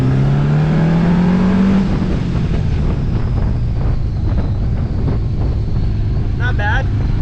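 A Honda GL1000 motorcycle being ridden, its engine droning and rising in pitch under heavy wind buffeting the microphone, with a brief engine note shift near the end.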